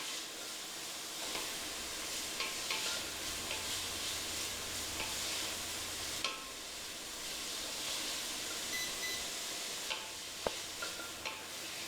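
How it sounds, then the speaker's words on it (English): Onions sizzle steadily in a hot pan while being stirred for pasta, a continuous close frying hiss with occasional scraping clicks of the spoon and no talking. "That's starting to sizzle nicely now."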